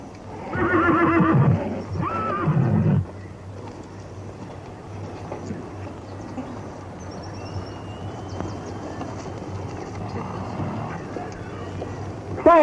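A horse whinnies loudly up close in a long rising-and-falling neigh, followed by a quieter stretch of outdoor ambience and faint movement.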